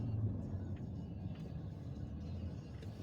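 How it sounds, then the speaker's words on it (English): A large dump truck rumbling past outdoors, a steady low heavy engine drone that holds at moderate level throughout. "That is a really big dump truck."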